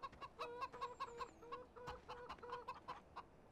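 Chickens in Farming Simulator 2017 cluck steadily in quick rhythmic bursts, fairly close but quiet, with several birds overlapping and no talking.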